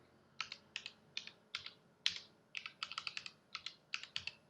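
Someone types a new password on a computer keyboard: quiet, close keystrokes in irregular bursts of separate clicks, with short pauses between groups.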